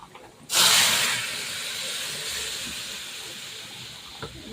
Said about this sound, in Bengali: এখন আমি ডালটা ঢেলে দিব।